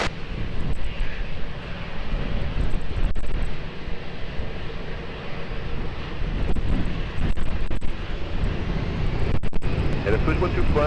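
A fixed-wing airliner powers up for takeoff on the runway at Lisbon Airport, its engines a steady, loud roar under gusty wind buffeting the microphone for the whole stretch.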